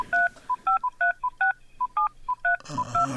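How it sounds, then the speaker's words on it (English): Touch-tone telephone keypad tones, about ten crisp dual-pitch beeps in an uneven dialing rhythm, loud and close, followed by a burst of line noise at the end. "let's just dial that up real quick"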